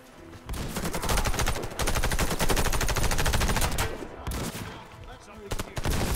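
Heavy automatic gunfire from the Warface shooter game, loud overlapping bursts that run almost continuously with brief gaps, ending in a few separate volleys.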